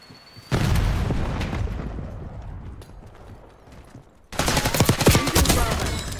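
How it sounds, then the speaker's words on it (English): A grenade blast in the Black Ops 6 multiplayer game: a loud burst at the start rolls off into a rumbling tail, then a second dense, crackling stretch of explosive gunfire-like bangs erupts near the end. "Grenade out."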